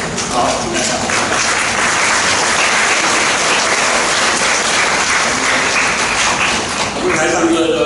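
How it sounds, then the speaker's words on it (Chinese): Sustained loud applause from a church congregation honoring deacons at an installation service, a continuous wash of clapping across the whole stretch with faint voices underneath. "我们也为他们鼓掌。"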